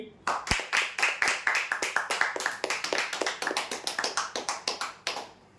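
A crowd claps loudly and steadily at a Sunday prize-draw event in honour of a winner, the dense rhythmic claps running for several seconds before tapering off near the end.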